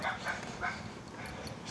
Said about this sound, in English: what a feisty little dog